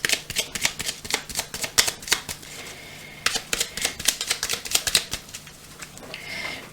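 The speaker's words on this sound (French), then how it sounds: "Allez, on va mélanger les petites cartes." Oracle cards riffled and shuffled by hand in bursts of quick papery flicks, close and crisp, pausing briefly mid-way before a second run of shuffling.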